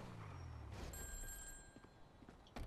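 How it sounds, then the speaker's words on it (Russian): Phone ringing in the video game GTA 5: a steady electronic ring tone sounds over a busy game soundscape with low rumbling engine-like noise, then a few sharp clicks near the end. "Телефон!"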